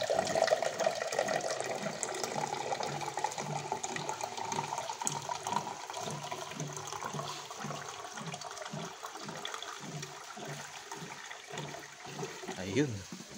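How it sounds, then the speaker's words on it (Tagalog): Water runs steadily from a tap into a pot of soup on a rainy morning, a continuous splashing stream that holds for several seconds alongside a repeating rhythmic clatter, with a brief louder surge near the end. "lalagyan lang natin ng tubig yung yung sopas natin"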